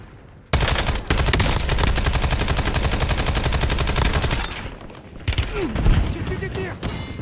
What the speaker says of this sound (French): J'ai reçu des tirs.